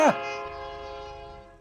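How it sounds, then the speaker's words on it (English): A train in the video game My Name Is You sounds a loud horn blast that opens abruptly, then a sustained, harmonically rich whistle tone rings on under low rolling rail rumble, slowly fading over nearly two seconds. "the double threw himself under the moving train"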